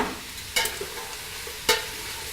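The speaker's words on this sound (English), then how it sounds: "Toss all the ingredients around so it all gets seared" Vegetables with the skin on, string beans, celery, onions, carrots and fresh thyme, get tossed in a hot pan to sear, giving two sharp scraping clatters of stirring over a low, steady sizzle.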